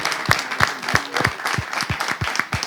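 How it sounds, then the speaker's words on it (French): An audience applauds at a live talk show, a short stretch of sharp, fairly sparse handclaps at an irregular rhythm, close and moderately loud with no voices over them. "On va vraiment applaudir ceux qui construisent les maisons à étage"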